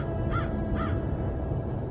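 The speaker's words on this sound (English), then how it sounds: "The American crow is a corvid, a different family than raptors." An American crow gives two short, harsh caws in quick succession, heard at moderate distance over a steady low rumble of background noise.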